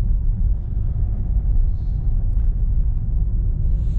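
A car engine runs at a low, steady rumble in third gear during a driving test near Montgeron, heard from inside the cabin as a continuous deep drone below 2000 rpm.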